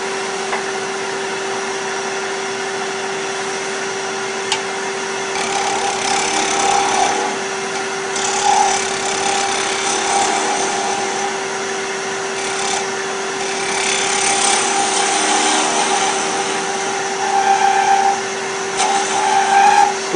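A wood lathe spins with a steady high hum while a tool faces the front of a turned wooden pill box, light scraping and cutting bursts rising and falling over the drone, close and without talk.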